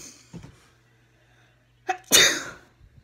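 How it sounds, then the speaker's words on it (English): A single loud, close sneeze with a sharp inhaled build-up just before it, otherwise near silence. "I just like to sneeze. Then I sneeze."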